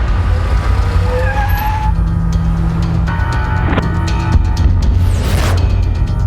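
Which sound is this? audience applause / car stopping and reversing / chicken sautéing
car stopping and reversing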